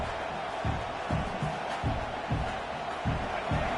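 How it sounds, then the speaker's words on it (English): Home football crowd at a college stadium game roaring in a distant, sustained wash of noise, with rhythmic swells and chants rising every half second or so, under a faint commentator's voice. "this home crowd is fired up and ready to make a difference today"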